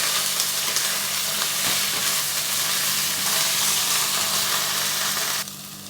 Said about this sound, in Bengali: ঢ্যাঁড়সগুলোতে আমি একটু নুন দিলাম আর একটু হলুদ দিলাম দিয়ে একটু ভেজে নেবে